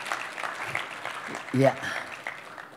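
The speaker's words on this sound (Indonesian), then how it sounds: "Sambut dengan tepuk tangan." A church congregation in Jakarta gives a short burst of applause, a thin patter of clapping under a brief spoken word and a few other voices.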